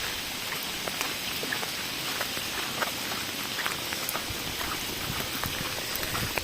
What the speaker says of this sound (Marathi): काय मस्त पाऊस आहे बारीक बारीक